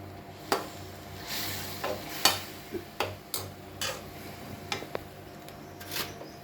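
Poha frying on a low gas flame for jaggery poha, a quiet sizzle broken by scattered sharp ticks and scrapes of a spoon stirring against the pan.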